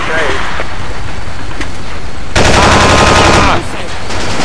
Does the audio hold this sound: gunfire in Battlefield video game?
yes